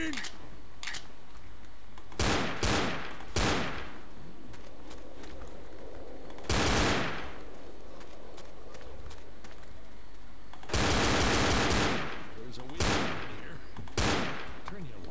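Gunshots in the zombie game Left 4 Dead, loud isolated blasts and short bursts spaced irregularly over a quiet ambient background.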